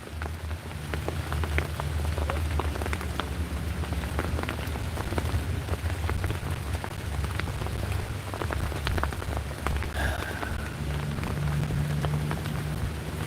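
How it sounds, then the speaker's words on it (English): Steady light rain falling on a shelter in North Carolina woods, a continuous close patter of drops over a low background rumble, unbroken for the whole stretch with no voices. "It's raining lightly though."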